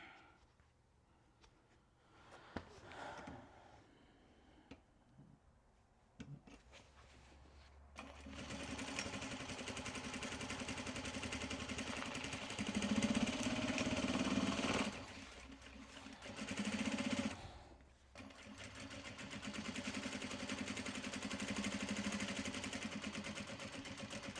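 Sewing machine running long steady bursts of stitching on upcycled obi fabric tote bags, a loud continuous motor whir with brief pauses and speed changes, faint sparse sounds before it starts.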